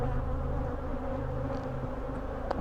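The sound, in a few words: honeybees buzzing at an opened hive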